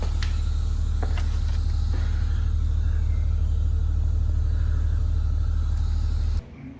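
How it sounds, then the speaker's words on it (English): Three Mazdas, a Mazda 3, Mazda 6 and CX-5, one of them a 2.2 Skyactiv diesel, idle together in a steady low rumble with a few faint clicks. The sound cuts off near the end. "So we started all three cars, the Mazda 3, the 6 and the CX5."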